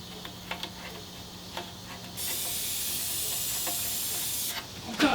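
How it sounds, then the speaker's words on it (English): Brake cleaner sprays in a steady, close hiss lasting a couple of seconds, with faint ticking and clicks before and after. "With brake cleaner."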